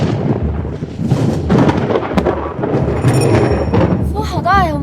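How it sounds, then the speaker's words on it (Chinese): Thunder rumbles by a riverside on a windy day, a loud, heavy roll that fills the whole clip, with a voice rising over it near the end. "打雷了，怎么要下雨？"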